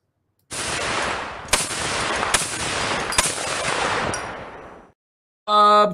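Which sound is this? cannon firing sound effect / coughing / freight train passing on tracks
cannon firing sound effect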